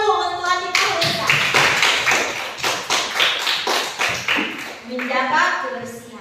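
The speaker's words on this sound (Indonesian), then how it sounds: "Tepuk tangan dulu untuk adik Parisa." Children in an Indonesian classroom clap their hands in a rapid, loud, close rhythm for several seconds, with children's voices calling out over the clapping.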